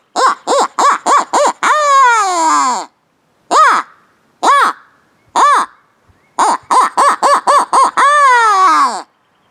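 Beaver Creek owl game call blown to imitate a barn owl, loud and close, with rapid bursts of short harsh hoots and several longer drawn-out calls separated by brief pauses.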